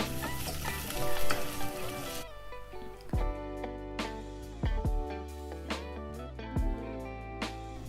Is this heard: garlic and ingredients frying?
yes